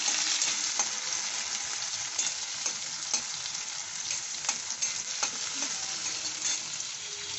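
Chopped capsicum sizzles and crackles steadily in a hot pan with other vegetables and leftover rice, with stirring scrapes and small pops throughout at close range.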